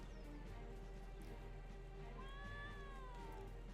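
A single cat meow, faint and drawn out with a rising then falling tone, sounds over a steady low electrical hum near the end of the moment; no speech.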